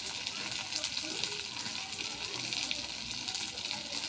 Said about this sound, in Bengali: আর একটু কড়া করে ভাজবো, মুচমুচে যেতে হয়।